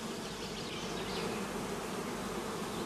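Honeybees swarm around a hive in a steady, dense buzz that holds at an even level throughout, close and continuous, with no voices present.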